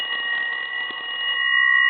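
The bell of a PTT Holland rotary telephone rings continuously and loudly up close, an even, shimmering metallic jangle with no talk over it.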